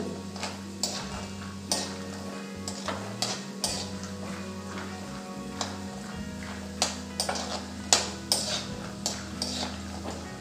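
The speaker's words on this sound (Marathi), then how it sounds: "शेंगदाणे पण आपण लालसर रंगावर छान तळून घेऊ" Peanuts being fried in oil until reddish for Diwali dahi poha chivda, with scattered light clicks and taps of a utensil against the pan over a steady low background hum, no talking.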